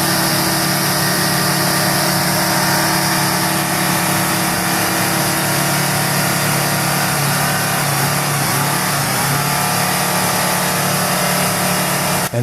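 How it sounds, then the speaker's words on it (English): A heavy truck engine growls steadily and loudly while the truck plows through mud, a dense, continuous drone with a slight shift in pitch as it works forward, with no voices. "That low, guttural growl, that's torque, baby. That's the sound of raw power being put to the ground"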